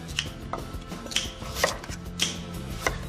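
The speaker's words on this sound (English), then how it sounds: "Chop. Spring onions through." A knife chops spring onions on a board in a home kitchen, with several sharp, evenly spaced knocks ringing out close and clear.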